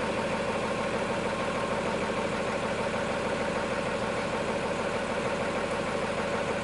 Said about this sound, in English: There's a combine driving across the field.